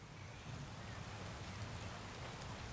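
Steady light rain falls outdoors over rural acreage, a soft even patter that is faint and continuous, with no talk.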